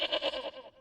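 A single wavering goat bleat, nasal and pulsing, sounds near and clear, then tapers off with no talking over it.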